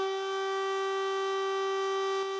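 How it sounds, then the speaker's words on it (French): Steady civil defense warning siren holding one loud, sustained wailing tone with bright harmonics, unbroken and alone for the full stretch, with a brief dip near the end. "Tu disais, Karine, les sirènes que tout le monde connaît"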